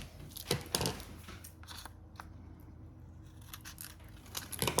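Scissors snip through a small plastic storage pocket for press-on nails, a few quiet, close, crisp cuts with soft handling rustle between them.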